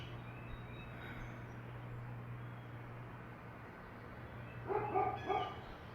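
A neighbour's dog barks somewhere nearby during a quiet yoga session, a short cluster of two or three faint yips near the end over a steady low room hum.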